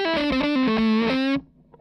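Electric guitar solo tone on the middle pickup, with light tape delay: a short sustained distorted melodic phrase of a few gliding notes, loud and close, then cutting off.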